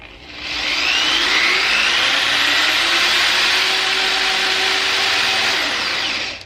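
A power drill bores into the wood of a DIY shoe closet with bookshelves, running as one continuous loud whine for about six seconds, starting and stopping cleanly, with no talking.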